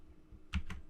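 Two quick keystrokes on a computer keyboard while entering a command to back up a T-Mobile CellSpot TM-1900AC router's firmware, close and crisp against a quiet room hum.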